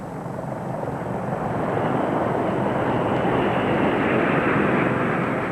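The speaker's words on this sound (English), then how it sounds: "a morning of memories and excitement as the flypast soared overhead" A flypast of 56 aircraft from 11 nations passes overhead at a 1994 D-Day commemoration, giving a broad, steady engine roar that builds slowly and holds loud throughout, with no talk.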